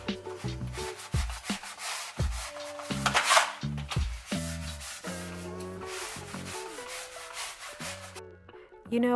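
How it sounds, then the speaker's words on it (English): A bath scrub scours the floor behind a moved stove in quick back-and-forth strokes, a close, rough scratching that repeats steadily, with a faint background tune running beneath it. "So I had to use my bath scrub because I couldn't, find something."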